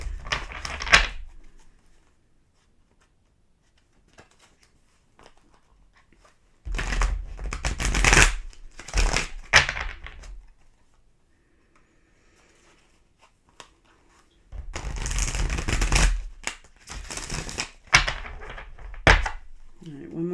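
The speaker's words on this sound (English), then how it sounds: "Shuffle for you here" Tarot cards being shuffled by hand, heard close up as three separate bursts of papery riffling and slapping with quiet pauses in between.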